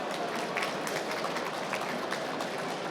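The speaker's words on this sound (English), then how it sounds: "Great applause to you." An audience applauds after a talk at a tech conference, producing dense, even clapping that holds steady for a few seconds.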